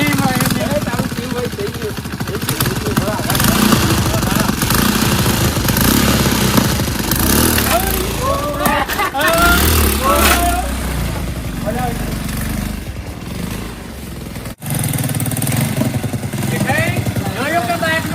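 An old motorcycle engine runs with a steady mid-pitched drone and clatter throughout, heard close up beneath fairly continuous talking from several voices.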